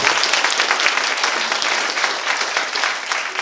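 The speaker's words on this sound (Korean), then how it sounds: "다시 한번 큰 박수 한번 부탁드리겠습니다." Steady, dense clapping from a room of Democratic Party members at a lecture in Anseong, continuous and fairly loud with no pauses.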